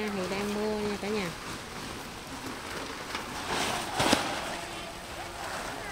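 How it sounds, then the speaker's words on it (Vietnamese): Steady rain falling outdoors in the afternoon, a soft continuous patter heard under a person talking, with a brief louder splash near the end. "thì đang mưa nha cả nhà"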